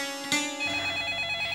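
A telephone rings in a Hindi TV drama scene, with a sharp onset followed by a sustained, tonal electronic ring that holds steady and stops abruptly.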